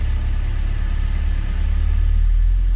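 A Honda K24 engine swapped into a CRX runs close by, a steady low engine note that builds slightly as the throttle is pressed near the end.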